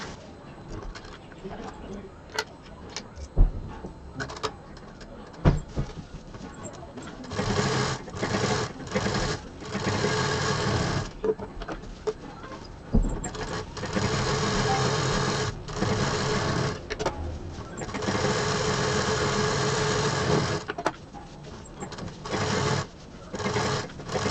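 A sewing machine stitches folded handbag fabric pieces in several steady whirring bursts with short pauses between them, and a voice talks faintly in the background.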